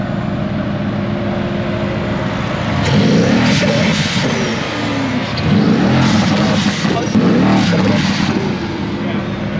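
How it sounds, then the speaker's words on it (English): A Mercedes-AMG Black Series engine revs up under load with a rising, whooshing turbo spool, loud and close, while people talk over it at a cars and coffee meet. "you can hear the turbo spool"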